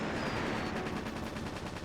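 A rotary gun fires continuously in the mech video game Battle Engine, a fast, evenly pulsing rattle of rounds at steady loudness through the short span.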